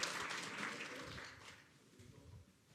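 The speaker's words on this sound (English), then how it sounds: "Let's have a round of applause for Graeme just for being so patient." An audience claps for a speaker at a policy conference, a faint, distant patter of hands that thins out toward the end.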